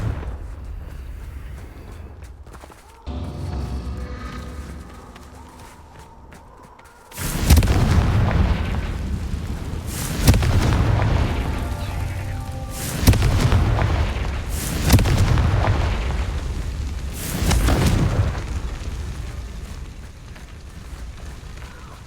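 Confringo blasting spells exploding in the Hogwarts Legacy video game, five loud booming blasts spaced a few seconds apart after a quieter stretch, each with a sharp crack and a rumbling tail.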